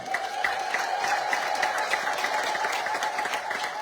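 An Ethiopian Orthodox congregation at a church service in Sacramento applauds steadily, with a sustained high ululating cry running through the clapping, loud and unbroken for the whole stretch.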